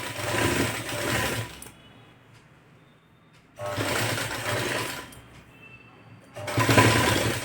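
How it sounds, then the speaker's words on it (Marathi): Sewing machine stitching a boat-neck blouse in three loud, steady runs of whirring, separated by brief quiet pauses. "मी डायरेक्ट शिवून घेते पाव इंचा अंतर ठेवून शिवून घ्यायचं"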